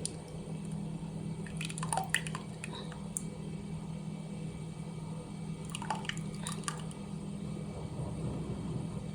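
Liquid poured through a small kitchen strainer gives soft trickles and drips in two short bursts over a low steady background hum, close but quiet.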